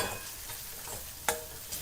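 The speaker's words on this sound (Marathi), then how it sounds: "आता टोमॅटोची पेस्ट घालूया चवीनुसार मीठ तेल सुटेपर्यंत परतून घेऊया" Tomato paste with salt sautéing in oil in a pan for a curry, a soft sizzle with a few spoon scrapes and one sharp clink of stirring, close and fairly quiet.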